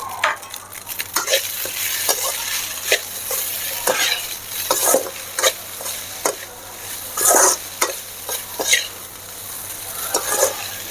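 Coriander leaves and ground pepper are stirred into potato rice in a pan, giving a dense run of close spoon scrapes and clatters over a steady sizzle.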